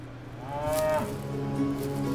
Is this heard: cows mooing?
yes